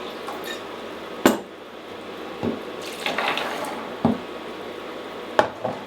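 Water splashes and trickles into a bowl with organic nama shoyu soya sauce, with sharp clinks of utensil or glass striking at intervals over a steady running wash.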